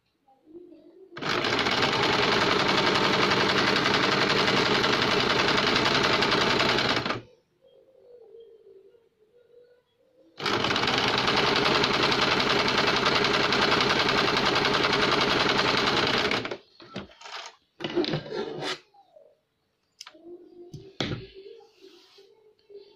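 An electric sewing machine stitches a blouse lining in two long continuous runs of rapid whirring, loud and close, separated by a pause with quiet handling and soft talk, followed by scattered rustles and clicks.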